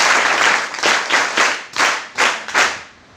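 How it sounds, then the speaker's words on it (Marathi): An audience bursts into loud, sustained applause at a school motivational talk. The clapping comes in several swelling waves and then fades toward the end. "एकदा जोरदार टाळ्या वाजवा."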